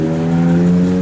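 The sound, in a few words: 1949 Ford F47 pickup engine starting via push button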